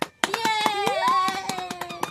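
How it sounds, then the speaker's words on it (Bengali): Children clap their hands in a loose, uneven rhythm of about a dozen sharp claps, close by, while a child's sustained sung or called-out voice carries over the clapping. "ও বাবা, হাততালি দাও সবাই।"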